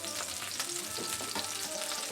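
Red chili flakes sizzle steadily in melted butter in a pan, a close, continuous crackling fry with no talking.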